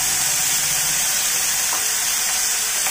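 Beans tipped into a hot pan over a high flame burst into a loud, dense sizzle that stays close and steady for a few seconds, with no talking.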